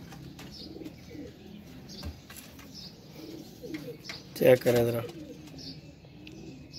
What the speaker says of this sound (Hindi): ये कबूतर आ गया।